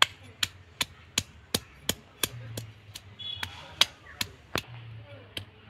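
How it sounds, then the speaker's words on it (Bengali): Turmeric is ground fine by hand without water, producing a steady series of about a dozen sharp, rhythmic knocks. The knocks are fairly quiet and evenly spaced under a hushed background. "মিহি করে আমি হলুদটা বেটে নেব।"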